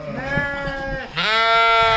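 Sheep in a muddy paddock and sheep pen bleat close by: a wavering bleat, then a louder, longer one that carries to the end.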